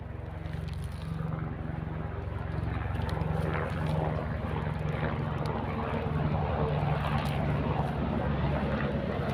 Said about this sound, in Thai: เฮลิคอปเตอร์มาใกล้มาก